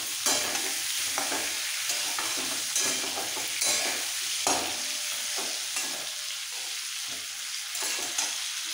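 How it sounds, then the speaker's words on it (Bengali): Radish pieces with turmeric fry in hot oil, a steady sizzle broken by repeated scraping taps of a spatula stirring the pan, with no talking. "এবার একটু ভেজে নেব।"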